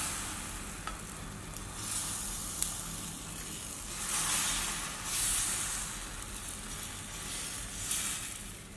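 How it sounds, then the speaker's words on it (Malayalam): Rava dosa batter poured onto a hot pan, sizzling loudly and continuously up close, with hissing surges as more batter spreads and a few light clicks of a utensil. "അപ്പോൾ ഇതിലേക്ക് നമുക്ക് ആവശ്യത്തിന് മാവ് ഒഴിച്ച് വെക്കാം."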